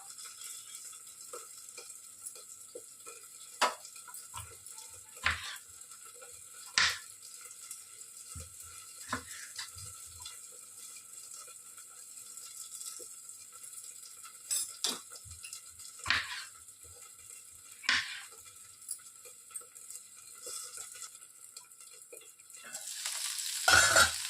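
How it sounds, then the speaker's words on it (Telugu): Green chillies fry in a pan with a soft, continuous sizzle, while repeated clinks and scrapes of a stirring spoon come at irregular intervals and grow louder near the end. "పచ్చిమిర్చి బాగా మగ్గిపోయింది."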